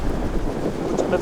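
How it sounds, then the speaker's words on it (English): Strong wind roars and buffets against a tent outdoors, a constant close rumble with gusty microphone noise and a voice talking underneath. "Het waait zo ongelooflijk hard."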